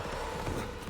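Horse hooves clip-clopping in the Diablo 4 video game, a steady close trot of game sound effects running for a second with a faint whinny in the mix.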